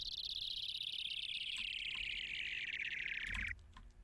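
Synth down sweep made in Serum, a bright whistling tone gliding steadily downward for over three seconds before stopping, leaving faint ticks behind.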